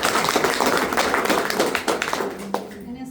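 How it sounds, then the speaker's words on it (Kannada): An audience claps at a live gathering, a dense patter of many hands at moderate loudness with speech running over it, tapering off toward the end. "ಚಪ್ಪಾಳೆ ಒಂದು."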